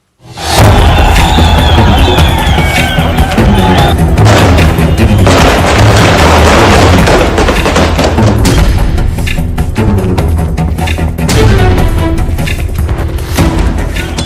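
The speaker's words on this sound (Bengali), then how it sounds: "জালালাবাদ, আফগানিস্তানের জাতীয় পতাকা নিয়ে মিছিল, পাল্টা তালিবানে গুলি" Gunfire during a Taliban clash in Jalalabad, Afghanistan, a loud, dense barrage of booming reports and thuds that runs without pause, heavy and overlapping throughout.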